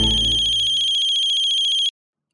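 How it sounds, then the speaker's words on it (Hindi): A telephone ringtone plays alone, a bright electronic tone pulsing rapidly and steadily for about two seconds before cutting off abruptly, loud and close. "अरे कब से फोन बज रहा है, उठाती क्यों नहीं?"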